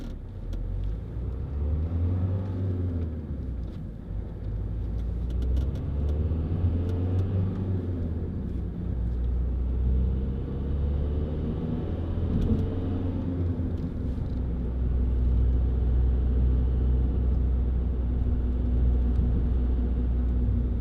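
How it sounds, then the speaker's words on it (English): A Vauxhall Zafira 1.9 CDTi 16v SRi diesel pulls uphill, a steady low engine rumble and drone with gear-related pitch shifts, heard from inside the cabin with no talking. "Coming up that hill, you can tell how well this car pulls."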